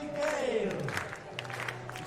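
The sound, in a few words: athletics crowd clapping for long jumper Tajay Gale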